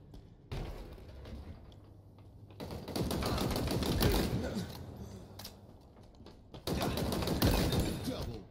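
Rapid automatic weapon fire in the Halo Infinite Tactical Slayer mode, arriving in two loud sustained bursts, the second short and abrupt, over a continuous game-audio background.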